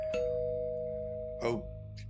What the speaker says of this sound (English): V's going to ring the doorbell of the house first to make sure no one's in.